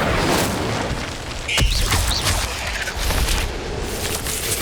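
The Incendio fire spell cast in Hogwarts Legacy: a loud, close booming whoosh of flame with rumbling bursts and crackle, sustained for several seconds.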